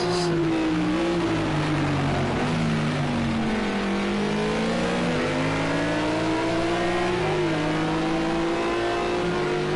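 GT3 race cars, a McLaren among them, roar around the Algarve circuit, engines revving hard and shifting pitch continuously, loud and close throughout with no voices.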